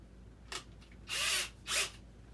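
Two short bursts of a power drill, an earlier faint blip then two louder whirring runs, as a same-size bit is worked around in a snug hole during a rebuild of an E-flite Timber X model plane.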